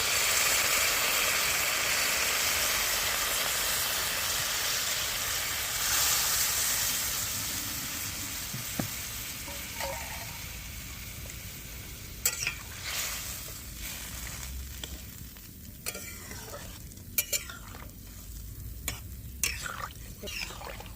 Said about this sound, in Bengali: ঝিঙে আর আলুটা কষা হয়ে গেছে, এবার আমি জল দিয়ে দিচ্ছি পরিমাণ মতো।